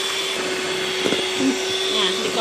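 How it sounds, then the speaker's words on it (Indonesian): An electric hand mixer whirs steadily, whipping the batter for a steamed taro sponge cake until fluffy. The motor hum is continuous and close, with faint voices underneath. "Oke, speed rendah dulu. Baru ke yang tinggi. Kocok sampai mengembang"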